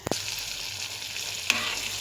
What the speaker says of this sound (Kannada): ಈಗ ಇದು ಒಗ್ಗರಣೆಯನ್ನು ಈಗ ನಾನು ಹುಳಿ ಗೊಜ್ಜು ಮಾಡಿ ಇಟ್ಕೊಂಡಿದ್ನಲ್ಲ ಅದಕ್ಕೆ ಹಾಕ್ಕೊಳ್ತೀನಿ